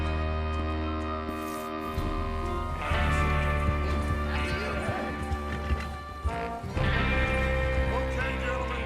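Horses in the Red Dead Redemption 2 video game, with whinnying and hoof clatter over a thick layered game soundtrack and ambience.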